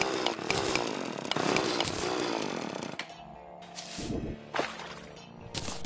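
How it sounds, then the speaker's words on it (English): A drill digs through ground in the video game Terraria with a loud, buzzing, chainsaw-like whine that holds steady, cuts out abruptly, and then returns in shorter bursts. "Follow the sound of my drill."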